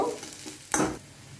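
A single scrape of stirring runs through onion, garlic and dried chilli frying in a pan, giving a brief burst of sizzle close by against low background sizzling, with no voices.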